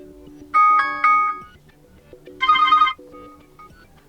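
A Cubot X20 phone plays its ringtone as short bright chiming bursts over a soft repeating tonal pattern, loud and close, with pauses between the bursts.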